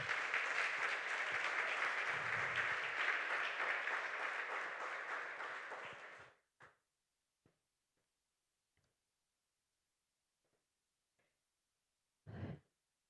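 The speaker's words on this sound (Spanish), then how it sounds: "Denle un aplauso al Señor." A church congregation applauds together, a dense, steady clapping that fills the room for several seconds and then stops abruptly, followed by near silence with a few faint knocks and one brief burst of sound at the end.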